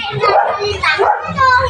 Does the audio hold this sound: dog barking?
yes